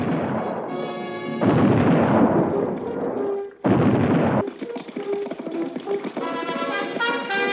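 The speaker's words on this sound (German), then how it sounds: "Jetzt noch die verschwenderischen Kanonenschüsse." Cannon shots fired in a 1957 pirate film, heavy booming blasts and rumbling bursts, some cut off abruptly, loud and close, followed by rattling, crackling aftermath sounds.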